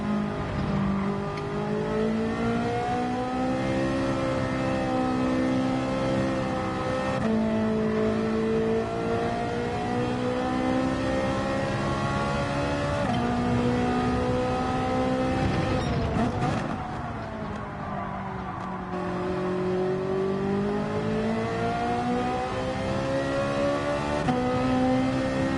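A Ferrari engine in Gran Turismo 7 climbs and drops through the gears, loud and close, revving hard with rising and falling pitch and a brief lull near the middle, no talking.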